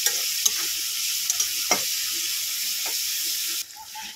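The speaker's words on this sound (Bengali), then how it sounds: "পেঁয়াজটাকে একটু ভেজে নেব।" Onion sizzles while frying in oil in a pan for a fish curry: a steady, close frying hiss with a few soft scrapes and knocks of stirring.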